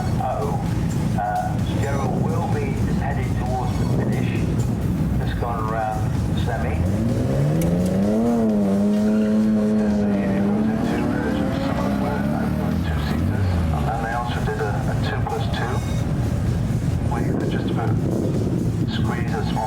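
Cars race up the Prescott hillclimb, engines revving and rising in pitch as one climbs and passes, under steady commentary from announcers talking throughout.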